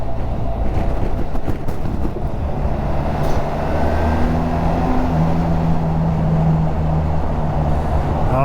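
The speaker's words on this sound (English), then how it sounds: "Here's the Mobile tunnel coming at us." A BMW GS1300 motorcycle rides through the Mobile tunnel in Alabama, a loud, enclosed, booming roar of engine and wind with a steady tone, echoing traffic and a rising whine near the end.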